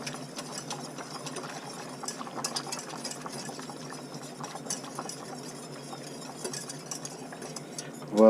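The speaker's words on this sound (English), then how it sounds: "And you mix." A veal stew sauce, blanquette de veau, is stirred in a pot, giving soft, repeated scraping and swishing strokes at a steady rhythm, fairly quiet and close.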